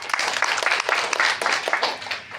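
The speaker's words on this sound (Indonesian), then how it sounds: "Mari berikan aplaus." Audience at the Pilkada Alor 2024 election launch event gives steady, dense applause, continuous clapping throughout.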